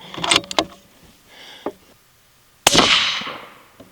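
A 6.5 Grendel Howa Mini rifle firing a 90gr Hornady CX load, one sharp, loud shot that decays into a rolling outdoor echo, after a few earlier clicks and handling noises.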